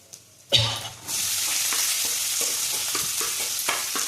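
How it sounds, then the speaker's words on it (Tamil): Onions hit hot garlic oil in a pan with a sharp clatter, then settle into a steady close sizzle with occasional stirring scrapes. This is a chicken dish in the making, and no one speaks. "வெங்காயத்தை வதக்கிக்கலாம்"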